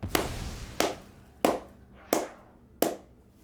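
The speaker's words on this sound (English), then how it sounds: "Clapping is definitely the best way to check for desync." Hands clap five times at an even pace, each a sharp, close crack followed by a short decay, with no voices.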